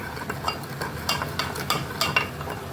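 A spoon stirs food in a pan that has been seasoned with salt and black pepper. There is close scraping in a quick, regular rhythm over a soft sizzle, and no one speaks.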